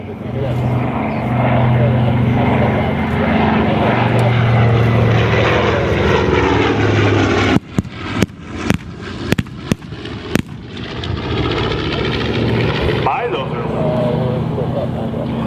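A Grumman TBM Avenger flies at an airshow, its steady propeller engine drone filling the air before a string of sharp firework-like bangs punctuates it midway, with a voice speaking over the scene.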